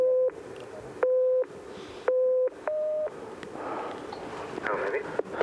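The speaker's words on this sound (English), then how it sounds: "David, you're going to try and count the low tones and ignore the high tones." Beeping pure tones from a hearing listening test at 6,500 metres on Everest, four clear low beeps in a steady rhythm about a second apart, followed by a brief higher tone, then faint background noise.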